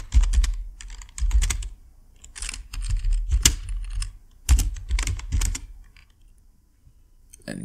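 A page name is typed on a computer keyboard, with quick bursts of crisp, close key clicks broken by short pauses, ending in near silence.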